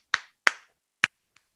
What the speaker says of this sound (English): And then clapping our hands